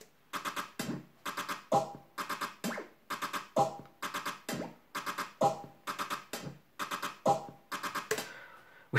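A busy electronic percussion groove programmed in Logic's Ultrabeat drum synth, with short clicky, metallic hits in a quick repeating syncopated pattern, close and dry, playing alone without any talk.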